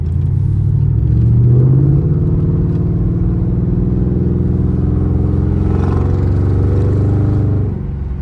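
A deep, loud Mercury Grand Marquis engine rumbles steadily, with a brief rise in revs early on before settling into a low idle-like drone.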